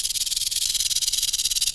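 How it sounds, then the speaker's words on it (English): A rattlesnake rattles in the Blindfold Runner audio game, a rapid and even high hissing buzz that pulses continuously and sounds close and fairly loud, with nothing else heard alongside it. "Rattlesnake. Rattlesnake."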